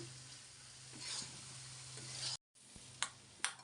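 Beaten egg scrambles in hot oil in a pan for Bengali home cooking, a soft, low sizzle with quiet scraping stirs and a couple of sharp utensil taps near the end.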